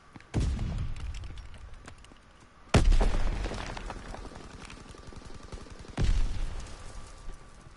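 Three loud booming blasts of a stun grenade in a PS4 video game, each a sharp bang followed by a long ringing decay, spaced a few seconds apart.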